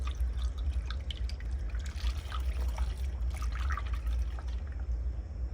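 A steady gurgling pour as a whole gallon of chocolate milk runs into the fuel tank of a Honda, continuous liquid trickling and splashing over a low rumble, close and unbroken.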